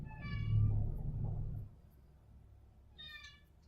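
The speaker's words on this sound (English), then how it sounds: "Kitty." A cat meows twice, close and clear: a longer call at the start and a shorter one near the end, over a low background rumble.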